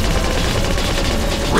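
Triple-shot gunfire in the Attack of the Movies arcade shooter on Wii, a dense continuous burst of overlapping shots that fills the whole moment loudly.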